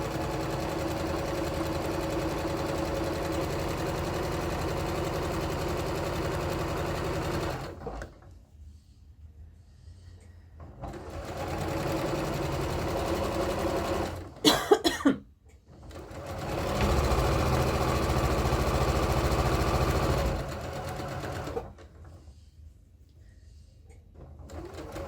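Sewing machine stitching through fabric and lining a quarter inch from the edge, running in steady loud bursts that stop for quiet pauses, with a brief clatter in between.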